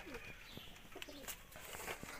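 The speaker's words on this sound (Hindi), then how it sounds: "हमारे कुछ कबूतर जो है बाहर पटियों पर बैठे हैं" Pigeons cooing outside on ledges, soft low repeated coos mixed with faint chirps and rustling, fairly quiet against a busy background.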